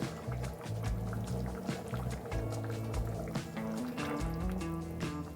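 Small fish curry simmering in a pot, a busy bubbling liquid sound with soft clatter throughout, thick and close, no talk heard.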